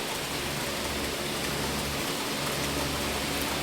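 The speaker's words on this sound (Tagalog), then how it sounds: "So finally, guys, the rain almost calmed down now." Steady dense rain falling outdoors during a flooding downpour, a continuous broadband hiss with no pauses, fairly loud and even throughout.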